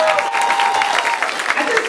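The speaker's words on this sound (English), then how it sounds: "let's give her another round of applause" Brief burst of audience applause at a live music performance, fairly loud and close, with faint voices mixed in.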